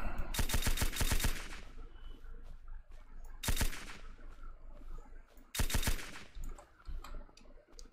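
Fully automatic gunfire in the Surroundead video game comes in three rapid bursts of closely spaced shots, near and sharp, over constant game ambience.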